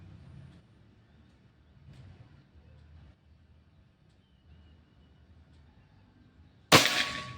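A single sharp air rifle shot from a Pajero Gun Gen 5 cracks out loudly near the end of a long, quiet stretch of low outdoor background noise during an accuracy test.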